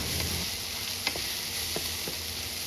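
Tomatoes and onions sautéing in a pan, a steady hissing sizzle with a few faint ticks of stirring throughout, no voices.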